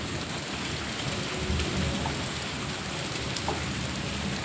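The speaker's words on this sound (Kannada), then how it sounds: "ಮಳೆ ಜೋರಾಗಿ ಬರ್ತೈತೆ" Heavy rain pours down steadily, a dense continuous hiss and patter with no voices.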